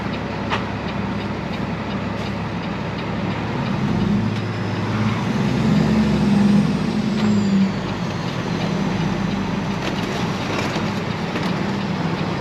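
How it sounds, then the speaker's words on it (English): A truck engine idles while warming up for the day, a steady low diesel rumble with a slight swell in the middle, brief hissy air releases, and no voices. "It looked like he was warming the truck up"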